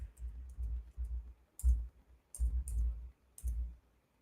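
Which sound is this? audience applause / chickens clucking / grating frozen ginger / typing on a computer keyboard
typing on a computer keyboard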